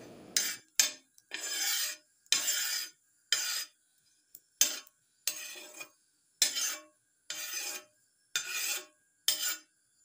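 Roasted dried fish and other chutney ingredients being pounded the traditional way, a rhythmic series of about a dozen gritty scraping and crushing strokes separated by short pauses, close and clear.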